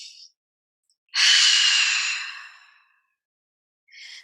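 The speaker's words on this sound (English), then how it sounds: "I'm going to start with taking a deep breath" A single deep breath during a home yoga session for shoulder release, a long, close inhale-exhale swelling loud then trailing off slowly, with faint breathy sounds briefly before and after and silence between.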